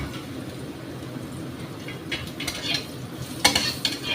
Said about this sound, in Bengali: পেঁপেটা একটু ভাজবো।